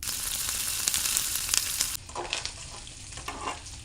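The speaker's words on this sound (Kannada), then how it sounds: "ಈಗ ಒಲೆ ಮೇಲೆ ಒಂದು ಪಾತ್ರೆ ಇಟ್ಟು ಅದಕ್ಕೆ ಒಳ್ಳೆಣ್ಣೆ ಹಾಕಿ ಎಣ್ಣೆ ಕಾದ್ಮೇಲೆ ಮೊದಲು ಜಜ್ಜಿದ ಬೆಳ್ಳುಳ್ಳಿ, ಈರುಳ್ಳಿ, ಟೊಮೆಟೊ ಅಷ್ಟು ಹಾಕೋಬೇಕ್ರಿ" Crushed garlic, onion and tomato hit hot oil in a pan, bursting into a loud, steady sizzle that drops to a softer crackle with a few sharp spits and pops.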